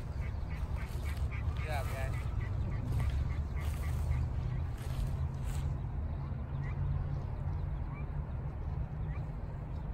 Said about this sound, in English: Did you play duck sounds?